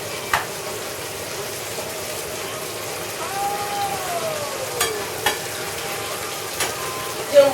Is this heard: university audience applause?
no